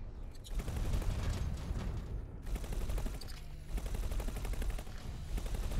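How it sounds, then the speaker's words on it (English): Plasma weapons firing in the X4: Timelines space game, a dense rapid barrage of loud crackling bursts that breaks off briefly twice, close and continuous. "Trying to shoot me with a damn plasma."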